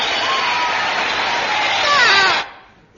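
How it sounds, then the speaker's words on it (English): Recorded applause from a gramophone record in a comedy radio show: a dense burst of clapping and cheering that holds for about two and a half seconds, then cuts off abruptly into near silence. "Signals applause on gramophone record."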